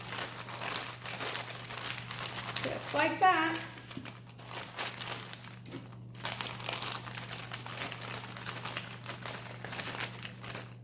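A plastic zip bag crinkles briefly while compound butter is packed into it in a kitchen, a short rustling burst under ongoing talk and a steady low hum.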